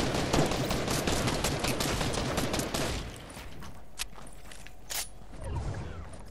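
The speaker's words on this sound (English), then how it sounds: "team shooting at me" Dense rapid gunfire from an opposing team rattles through an online shooter game, loud and continuous for a few seconds, then thinning to scattered single shots and footsteps.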